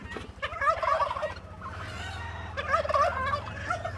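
Silver Lace Wyandotte chickens in a backyard coop, several birds clucking and calling in bursts, fairly close, with a steady low hum underneath and no talk.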